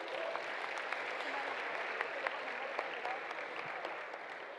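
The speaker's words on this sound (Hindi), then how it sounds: "So clap for him friends." Audience clapping at a prize distribution and closing ceremony of a conference, a continuous even patter of many hands heard from some distance, fairly quiet and steady throughout.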